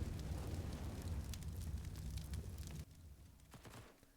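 In Counter-Strike on the map Cache, a molotov fire roars and crackles close by while a grenade bursts within it. The loud burning cuts down sharply partway through and leaves a quieter crackle, with no voices.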